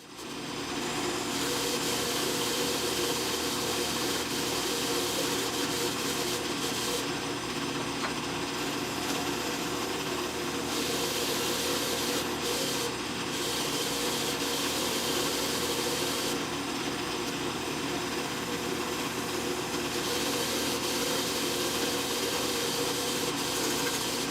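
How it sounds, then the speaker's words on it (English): A steady abrasive whir of a drill-press-mounted drum sander grinding a knife, loud and continuous throughout, with slight shifts in tone as pressure changes. "we'll use the drum sander that's mounted to the drill press, and we'll get her going"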